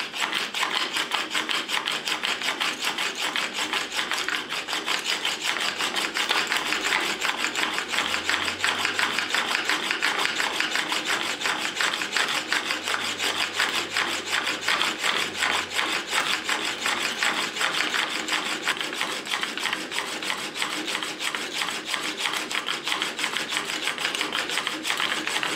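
A wood chisel is ground on a very coarse 100 grit stone in a Trend Fast Track sharpener, making a steady, continuous rasping scrape for the whole stretch with no speech.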